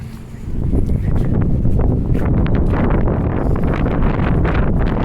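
Strong gusts buffet the microphone during a walk downtown, a loud continuous low rumble that jumps up after the first half second and stays heavy and turbulent throughout.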